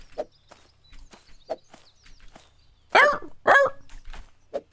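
A security dog in the video game Thief Simulator 2 lets out two loud, close barks near the end, following quieter scattered footstep-like thumps.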